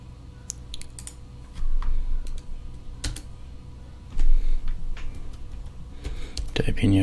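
Keys tapped on a computer keyboard while entering a password in a terminal, giving scattered clicks and short bursts of typing up close against a low background hum.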